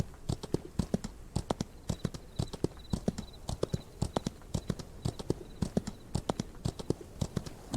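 Horse hooves clip-clop in the Outlaws of the Old West video game, a brisk, even rhythm of sharp hoofbeats repeating close by throughout as the horse travels.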